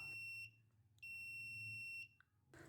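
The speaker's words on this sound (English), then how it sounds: "so buzzer is turned on" A high-pitched electronic buzzer on a soil moisture sensor circuit, triggered by dry soil, sounds in two steady tones, a short burst then a longer one about a second, faint with low hum beneath.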